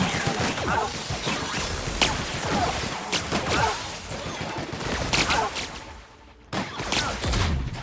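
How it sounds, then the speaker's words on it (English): Rapid grenade launcher fire and impacts in The Outer Worlds, a dense run of sharp booms, whooshes and crashes spread over several seconds with a brief lull, loud and close amid game noise. "Oh, it's a grenade launcher."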